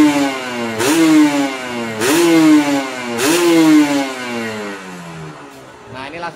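A Kawasaki Ninja RR motorcycle engine revs up in three sharp bursts, pitch rising and falling each time, then settles back toward a lower idle, loud and close.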